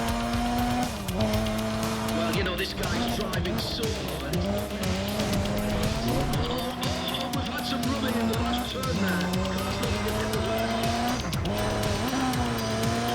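A Suzuki Escudo racing in the video game NFS ProStreet revs with a steady, wavering engine drone, repeated gear-shift dips and squealing tires, loud and continuous.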